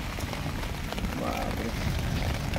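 Light rain falls at night outdoors during a crab hunt in rural Maharashtra, a constant close patter and hiss that fills the whole stretch without a break.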